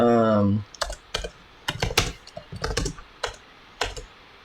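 A password being typed on a computer keyboard, with a quick series of crisp, close key clicks in uneven bursts after a brief low tone at the start.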